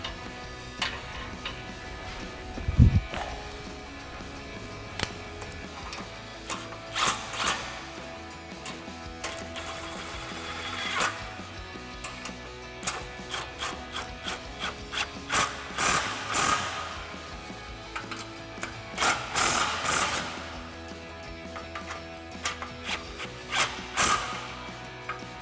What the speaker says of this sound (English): we're going to tighten down our bolt and apply tension